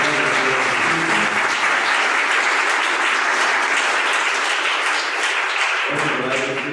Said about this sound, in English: A round of applause for Nabil and Barbara.